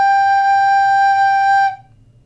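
A single sustained recorder note, G, holds steady and clear for under two seconds, then stops cleanly.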